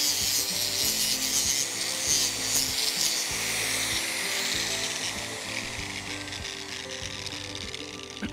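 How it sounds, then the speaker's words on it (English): An inexpensive handheld grinder shapes a horseshoe with a sustained high abrasive whine and rhythmic rubbing pulses, close and steady throughout, with no voices. "So you can see shaping can be done simply and easily with an inexpensive hand tool."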